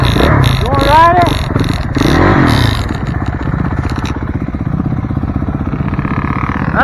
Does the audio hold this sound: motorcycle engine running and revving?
yes